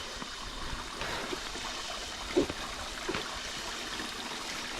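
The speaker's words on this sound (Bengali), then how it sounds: "সোনাই ট্রেনে টেলে এসে এখন পর্যন্ত সব থেকে বড় ঝর্ণা আমাদের চোখে পড়ছে।" A large waterfall on the Sonaichhari trail pours in a steady, rushing wash of water at moderate distance, with a couple of brief knocks breaking through midway.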